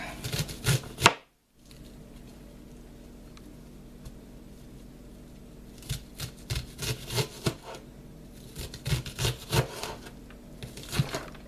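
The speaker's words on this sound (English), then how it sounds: "Greatest knife for cutting onions, but it'll work." A knife chops onions on a cutting board in irregular bursts of close, crisp taps, with a pause and some quieter stretches between flurries of cuts.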